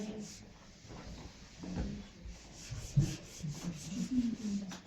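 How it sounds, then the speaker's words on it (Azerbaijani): Erasing written math from a board during a lesson: a few soft, rubbing swipes of uneven length over a low background hum, moderately close and fairly faint. "Silə bilərəm bunu."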